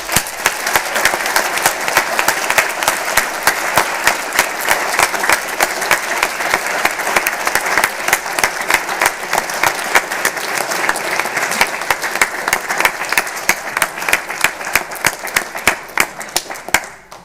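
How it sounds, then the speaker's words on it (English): A large audience at a model UN conference closing ceremony applauds continuously, a dense, steady wash of many hands clapping that holds for over fifteen seconds before tapering off. "This is your applause."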